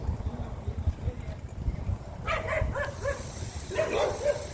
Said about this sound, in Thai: คุณจะได้ยินเสียงสุนัข